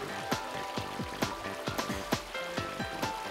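Shallow flowing water drives a small turbine, heard as a quiet trickle broken by a rapid, irregular series of soft splashing clicks.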